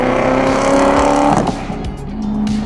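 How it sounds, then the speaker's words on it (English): A BMW car with a bad-sounding engine roars loudly nearby, revving with a rising, strained tone before dropping off, then settling into a rough lower hum. "Your car sounds terrible and you should be embarrassed."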